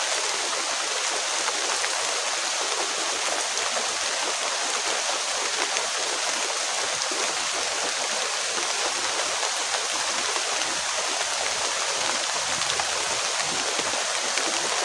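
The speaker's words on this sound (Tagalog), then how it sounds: "Lumalakas talaga ang ulan, ang ginaw." Heavy rain pours in a steady, loud, unbroken hiss with no letup and no voices.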